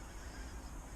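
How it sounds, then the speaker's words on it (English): A large mass of pink-footed geese honk on a frosty marsh, a dense, continuous distant chorus of overlapping calls. "This is definitely the most geese I've ever had on a marsh in front of me."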